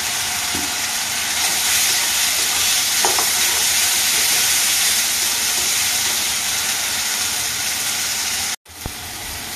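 Chopped tomato with salt sizzles and fries steadily in a hot pan for an egg curry, a continuous close hiss with faint stirring clicks, cut off briefly near the end.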